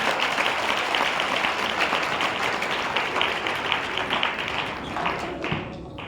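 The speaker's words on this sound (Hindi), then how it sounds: "तालियां बजाकर उसकी महिमा करें" A church congregation claps together during a Hindi-language Sunday worship service, with steady, full applause that holds for several seconds and then thins out toward the end, with no speech over it.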